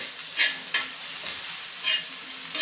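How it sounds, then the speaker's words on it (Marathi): Ridge gourd peel roasting in oil in a pan over medium-high heat, a soft continuous sizzle with a few brief spatula scrapes spaced through it, close and moderately quiet. "इथे दोन मिनटं मी ह्या शिरा भाजून घेतल्या आहेत आता ह्याच्यावरती आपल्याला तेल सोडून घ्यायचं आहे"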